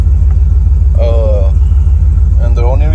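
Deep, steady engine rumble from a 454 V8 OBS Chevrolet 454SS truck with two Magnaflow bullet mufflers idling close by, low and continuous, with brief bits of speech over it.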